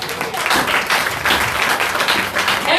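A church congregation applauds, a dense and steady wash of clapping at close range that holds for a few seconds without pause.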